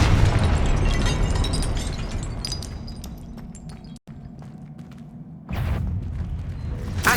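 Confringo fire-spell blasts in Hogwarts Legacy, a loud rumbling explosion that slowly decays into crackling debris, a short cut, then a second sharp burst near the end, with no voices.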